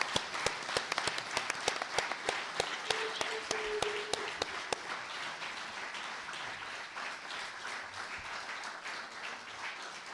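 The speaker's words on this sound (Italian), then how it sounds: "io vorrei fare un applauso a questi 3" Audience applause at a lecture hall presentation on a Venice heritage project, a steady crowd clapping that fades out over ten seconds.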